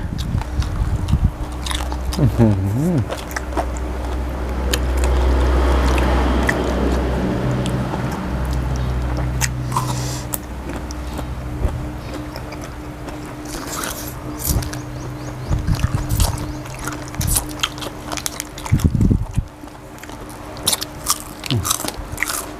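Crunchy spicy Thai jellyfish salad being chewed up close, repeated wet crunching and biting bites in an irregular rhythm, loudest in the first half, with quieter chewing and a few clicks later.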